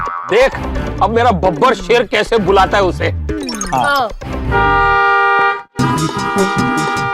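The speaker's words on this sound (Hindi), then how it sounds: "क्या कब से जोर जोर से हॉर्न पे हॉर्न बजा रहा है" A car horn blares in two long, steady blasts separated by a brief gap, following a stretch of someone talking; the honks are loud and close.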